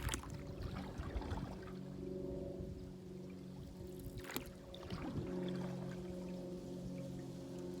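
Quiet splashes of a kayak paddle dipping into creek water in wilderness, soft and sparse against a steady low drone of an airplane overhead.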